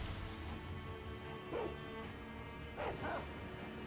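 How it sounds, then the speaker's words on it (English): Dogs in the video game Sekiro: Shadows Die Twice give three short barks in quick succession over a steady background hum. "Oh, I forgot about the dogs."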